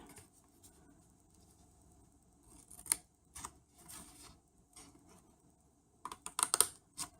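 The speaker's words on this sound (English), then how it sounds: "on each corner, you will want to cut out a triangle" Scissors snip through a paper mini pizza box at its corners, with quiet close-up clipping cuts spaced irregularly, ending in a quick cluster of several snips, and no talking.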